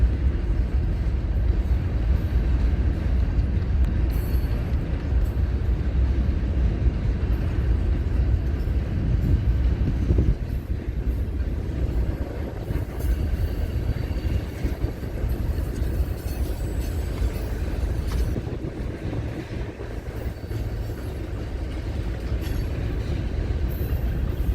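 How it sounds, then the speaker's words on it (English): A long freight train of grain cars rolls steadily through the East Deerfield railyard, its wheels rumbling low and continuous with faint clatter and occasional squeal, loud and close for the whole stretch. "It's always cool to see these grain cars snake the East Deerfield Railyard."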